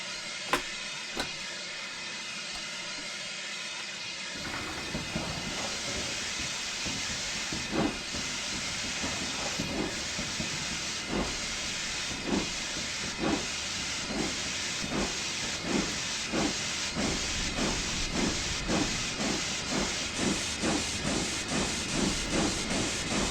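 A Peppercorn K1 steam locomotive in Train Simulator lets out a loud, steady steam hiss, then settles into rhythmic chuffing that beats regularly for about twenty seconds.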